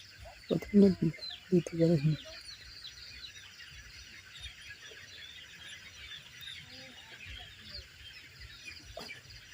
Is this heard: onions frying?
no